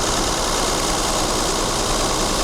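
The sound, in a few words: car engine idling with heavy vibration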